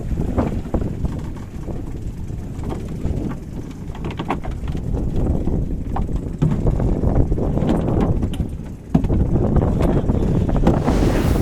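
Strong sea wind buffets a fishing boat off the Andaman coast near Krabi, roaring loudly and continuously across the microphone, with water sloshing beneath and a sharp knock near the end.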